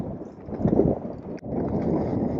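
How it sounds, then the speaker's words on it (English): Strong wind buffets a boat at a protected anchorage on a very windy day near the Atlantic Ocean, making a steady, loud roaring rush with gusty swells and a brief dip partway through. "Very windy day."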